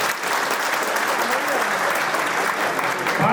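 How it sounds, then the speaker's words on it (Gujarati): An audience claps steadily throughout at a community education society program, a dense, continuous wash of applause with no pauses. "એક તાળીઓનો ગણગણાટ થઈ જાય"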